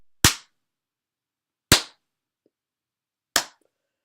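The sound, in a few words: random gunshot sound effects in a video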